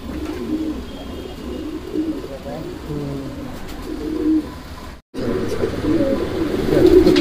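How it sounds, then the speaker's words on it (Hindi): Homing pigeons cooing in soft repeated low burbles at close range, with a brief gap and then denser cooing, alongside some rustling and background noise. "बहुत बेहतरीन कबूतर दोस्तों, ये भी कबूतर है भाई,"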